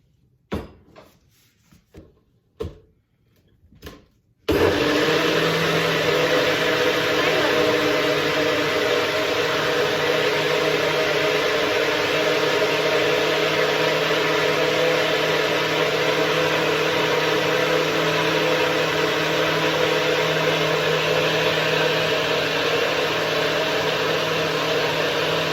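A few faint clunks and taps, then a blender motor kicks in with a loud, steady whirring drone that runs continuously while blending a green smoothie.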